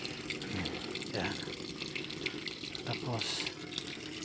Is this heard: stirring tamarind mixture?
no